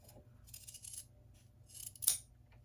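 Scissors snip through thread on a fabric quilt binding, a few short crisp cuts close by, with one sharper snip near the end and a faint low hum beneath.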